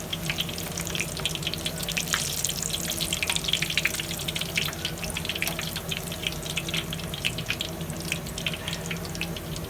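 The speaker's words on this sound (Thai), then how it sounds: "กลับด้านมาทอดฝั่งนี้นิดหน่อยฮะ" Pork crackling pieces from pork belly fry in hot oil, turned over to crisp the other side, giving a loud, dense, continuous sizzle and bubbling hiss throughout with no talking.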